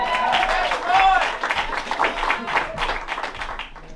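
A bluegrass concert audience applauds and cheers for a musician being called up, a dense wash of clapping with scattered voices, loud and close throughout.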